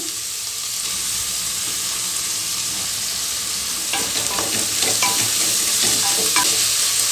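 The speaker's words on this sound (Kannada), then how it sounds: "ನುಗ್ಗೆಕಾಯಿ ಈರುಳ್ಳಿ ಎಲ್ಲನೂ ಎಣ್ಣೆಯಲ್ಲಿ ಚೆನ್ನಾಗಿ ಫ್ರೈ ಆಗಬೇಕು" Drumstick pieces and onion frying in hot oil for a Kannada-style drumstick gojju, a steady close sizzle with stirring scrapes and clinks growing busier midway.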